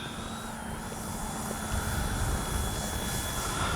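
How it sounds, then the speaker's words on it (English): FMS 70mm Yak 130 radio-controlled electric ducted-fan jet flying overhead, a steady loud whine and roar that holds throughout with a slight pitch shift, no voices. "It's a good, great flying little jet."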